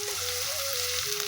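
Ginger hits hot oil and sets off a steady, dense sizzle close by. A low tonal hum runs underneath, and nobody speaks.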